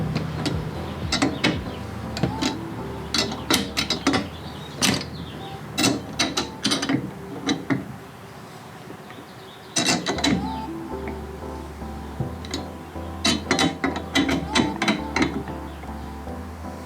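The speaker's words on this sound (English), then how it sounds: "we're going to tighten the top collar while holding the bottom one so it doesn't spin" The top collar of FactionFab FR-Spec V2 coilovers is tightened by hand, with repeated sharp metallic ratcheting clicks and clanks in irregular bursts. There is a short pause midway before the clicking resumes.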